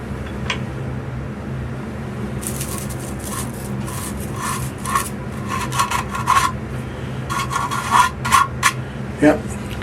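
Burrs being filed off 12mm drilled holes in a plastic electrics box, a series of rough rasping strokes in irregular bursts from a few seconds in, fairly close over a steady low background hum.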